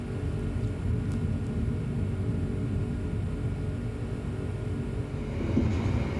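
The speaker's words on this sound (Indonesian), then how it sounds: "Pada pukul 14:52 kereta api Argo Merbabu telah diberangkatkan kembali dari stasiun Bekasi." Low, steady rumble of the Argo Merbabu passenger train pulling away from Bekasi station, heard from inside with a continuous droning roar and slight swell near the end.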